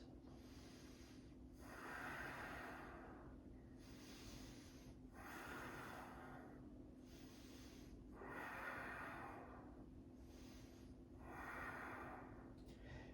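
Slow, deep breathing held through a yoga pose, with long drawn inhales and exhales rising and fading in a steady rhythm of about five cycles, close and soft over a low background hum.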